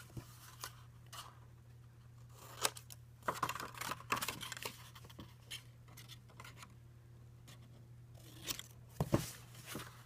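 Scissors snip through the tab of a folded milk carton indoors, giving a few short, crisp cuts spread across a quiet stretch, close and fairly faint, with a steady low hum underneath and no talking.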